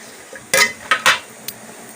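Metal idli steamer pot and lid being handled: a few close clanks and clinks of metal, one quick pair followed by a lighter tap, otherwise quiet.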